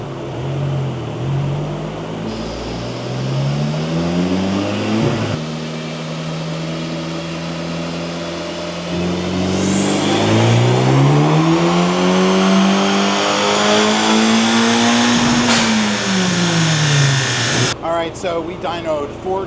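A 2024 Acura Integra DE5 engine on flex-fuel E85 tuning revs hard during a dyno pull, its loud rising wail climbing steadily, peaking and then dropping off, with the run ending abruptly near the close.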